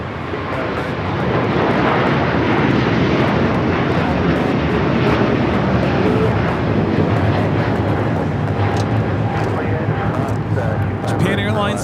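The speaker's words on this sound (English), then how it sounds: "Japan Airlines Flight 15 taking off to Tokyo Haneda on the A350 1000." Japan Airlines Airbus A350-1000 jet taking off from LAX, a loud, steady, broad engine roar that holds for the whole stretch without fading, with a voice talking over it.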